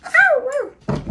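A puppy lets out a high, wavering whimper that slides down in pitch, then after a brief pause gives a short, sharp bark, both close and fairly loud.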